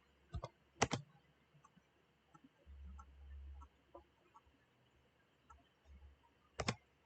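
A few sharp key clicks from a computer keyboard as a Rhino command alias is typed, spread apart with quiet gaps and faint low hum between them.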